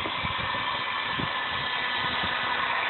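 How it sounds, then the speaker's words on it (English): A heat gun blows hot air onto a Cooper STT 305-70R16 tire on a Nissan Xterra, making a steady, even broadband rush close by with low rumbling underneath and no speech. "It doesn't take very long with a heat gun."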